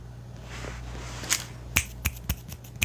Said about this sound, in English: Snapping, clapping for you.